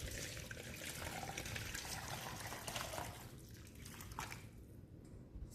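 Warm water being dumped into a pot while making Banga palm nut soup, a steady broadband pour and trickle running throughout, loud and close, easing slightly toward the end.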